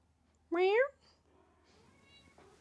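A house cat gives one clear, close, rising-and-falling meow, loud and alone, followed by near silence with faint background sounds.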